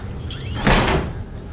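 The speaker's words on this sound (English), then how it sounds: "Close the door right behind you." In the horror game Outlast, a door swings shut in one smooth sliding sweep that ends in a soft, muffled close, alone against a low background hum.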